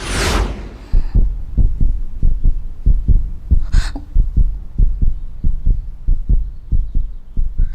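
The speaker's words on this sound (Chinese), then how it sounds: "你现在的心跳已经超过120了" A rapid, heavy heartbeat effect in a Chinese television drama thumps in a loud, even rhythm after a brief whoosh, with a soft breath partway through.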